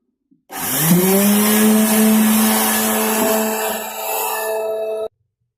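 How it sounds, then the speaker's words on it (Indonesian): An electric sanding machine spins up on a guitar body during a heavy rebuild, holding a loud, steady whirring drone with a clear tonal hum for about four seconds before cutting off. "Bisa juga kita gunakan mesin amplas."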